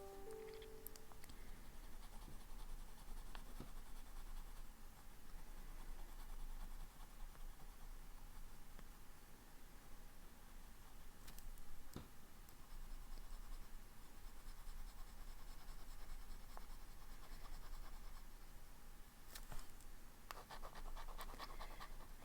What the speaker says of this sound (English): this nib has gotten scratchy, so I think there might be a misaligned tine